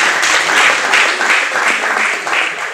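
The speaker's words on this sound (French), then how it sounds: "Que les artistes de Nzonzi applaudissent pour eux-mêmes." Audience at the Nzonzing music awards ceremony in a hall clapping: loud, dense, continuous applause from a crowd, close and filling the whole stretch with no voices on top.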